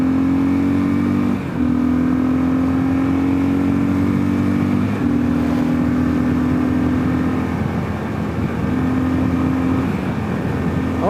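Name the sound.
2022 Kawasaki KLR650 motorcycle accelerating at highway speed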